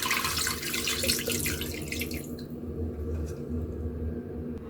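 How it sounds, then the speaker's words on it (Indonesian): Water is poured into a pot over chicken for Singapore chicken rice, a steady splashing, rushing pour that thins toward the end, close and moderately quiet. "saya akan tambahkan air. Ini airnya sampai menutupi ayamnya ya."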